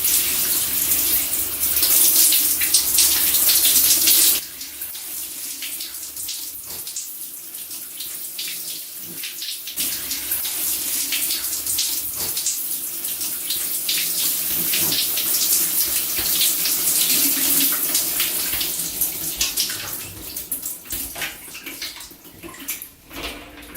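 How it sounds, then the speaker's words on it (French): Shower water runs loudly and continuously for the whole stretch, a steady hissing spray that drops slightly in level early on before carrying on unbroken. "Ces chats ont un réel problème avec la douche."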